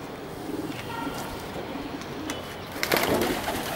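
Pigeons cooing on a rooftop wall, soft repeated coos with a brief louder flurry of wing or movement noise near the end.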